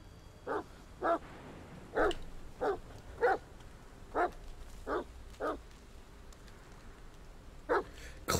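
A dog in the video game The Medium barks about ten times, single sharp barks spaced roughly a second apart at a steady moderate level over quiet ambient game background.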